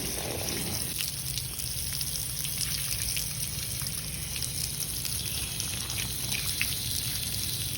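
Water runs and splashes steadily as RC car parts from a Kraken Vekta.5 are washed off, a constant close hiss of spray with no talking.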